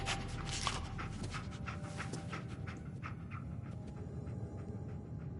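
Dogmeat, the dog companion in the video game Fallout 4, pants in quick, rhythmic breaths close up, with soft whimpering and a low rumble underneath and no talk.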